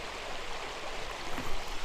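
Fast water of a tiny trout stream rushes steadily in a broad, even wash, close and moderately loud, with a slight swell toward the end and no voices.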